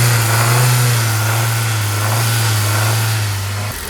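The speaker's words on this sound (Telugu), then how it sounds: "ఇదిగోండి ఒకసారి ఇంజిన్ నాయిస్ చూసుకోండి ఫ్రెండ్స్" A used Hyundai i10 Sportz engine runs close up with a steady mid-pitched hum and a slight rise in revs early, then settles before cutting off near the end.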